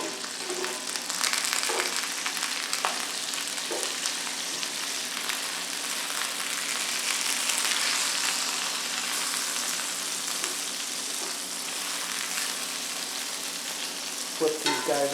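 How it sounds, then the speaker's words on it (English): Food sizzles and crackles steadily in hot olive oil in a pan, with occasional sharper pops and light clinks, fairly close and constant throughout. "I wanted to get the sizzle up"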